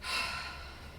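A person breathing out slowly in a guided breathing exercise: one long, soft exhale of airy rushing breath, close and steady, with no talking.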